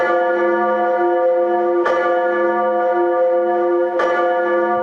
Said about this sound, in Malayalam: ഒറ്റ ക്ലിക്കിൽ ഉച്ചത്തിൽ മുഴങ്ങുന്ന പള്ളിമണി